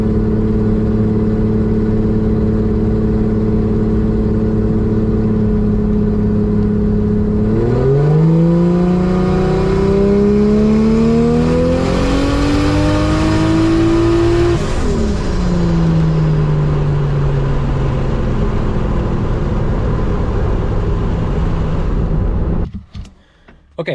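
A street car's engine on boost pulls with wastegate duty cycle adjustments, heard up close: a steady loud idle drone rises into a long climbing rev, holds high, falls back to idle, then cuts off abruptly.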